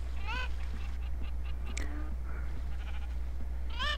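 Sheep bleating in the Minecraft video game, two wavering bleats at the start and end of the clip, with fainter game sounds and a short chirp between them over a steady low hum.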